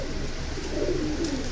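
Silver pigeons give a faint, low cooing murmur that swells briefly midway through a steady background hiss.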